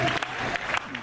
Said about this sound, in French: il mérite un applaudissement